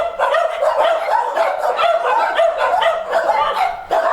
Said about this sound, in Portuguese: Eles ouvem os barulhos das brigas entre os cães